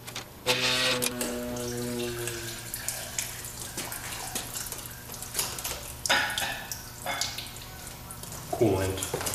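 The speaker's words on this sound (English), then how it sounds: "Coolant. Coolant everywhere." Coolant pouring out of a Jaguar AJ126 supercharged engine during disassembly, a running, splashing liquid flow with a steady tonal hum and intermittent clattering in a workshop.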